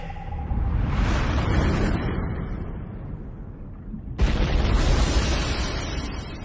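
A mine launcher blows up in the space combat game Space Armageddon, a loud rumbling explosion that rolls and fades, then a second sharp blast bursts in and booms again.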